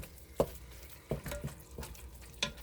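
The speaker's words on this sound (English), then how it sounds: "So as you can hear, it's starting to sizzle." Quiet, steady sizzling of food frying in a Ninja Foodi multicooker pot, with a few soft clicks and scrapes of stirring on top.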